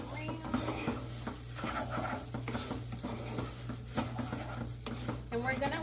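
Rice toasting in a pan for Spanish rice gives a soft, continuous sizzle under busy stirring, with a spoon scraping and pattering against the pan throughout, fairly close.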